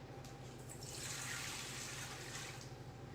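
Warm water infused for baking pours into a bowl of sugar, a steady broad splashing rush that swells for about two seconds in the middle over a low constant background hum.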